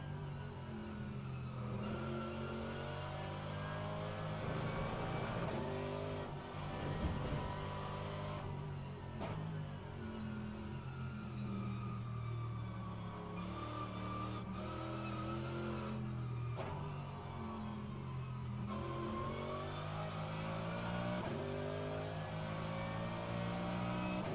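A Mercedes AMG GT3 race car in rFactor 2 laps the Indianapolis road course, its engine loud and steady, rising and falling through gear changes and revs with no voices.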